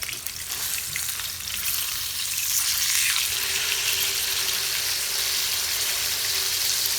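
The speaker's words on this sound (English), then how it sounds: "you can hear it searing" A thick ribeye steak sears in hot oil in a pan, giving a loud, close, continuous crackling sizzle that stays steady from start to finish with no voices.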